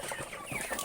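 Dense, close clucking from a flock of about a hundred chickens crowded at their feeder, overlapping calls continuous through the brief moment.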